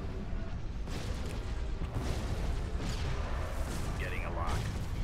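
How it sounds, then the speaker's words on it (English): Starship weapons fire steadily at enemy frigates in a Star Wars space battle game, a dense continuous roar of blasts and booms with a few brief higher zaps, mixed under game sound. "Shoot the frigates!"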